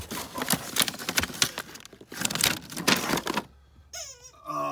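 A dog squeaking a squeaky toy indoors, heard as a rapid burst of rubbery squeals and crinkly rustling, then a pause, then a few drawn-out rising and falling squeaks, loud and close, with no talking.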